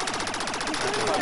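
Rapid automatic gunfire in a horror video game, a dense rattling burst of fast repeated shots lasting the whole moment, with voices speaking over it.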